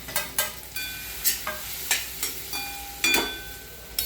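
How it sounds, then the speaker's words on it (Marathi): Mashed boiled potatoes stirred into spiced oil in a pan: a steady low sizzle broken by about a dozen sharp scraping and clanking spoon strokes, close and clear, with no talk. "आता हे सगळे उकडलेले बटाटे कुस्करून घेतलेले आहेत, स्मॅश करून सगळे मऊ करून घेतले."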